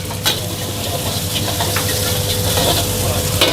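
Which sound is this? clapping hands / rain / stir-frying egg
stir-frying egg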